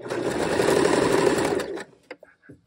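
A sewing machine runs steadily for almost two seconds while stitching the waistband of a pair of pajama shorts, then stops, leaving a few faint handling clicks.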